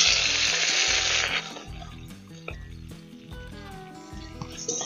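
Chopped tomatoes dropped into hot oil with panch phoron and black mustard seeds: a loud burst of sizzling that settles into a softer, steady fry with light crackles, and background music underneath.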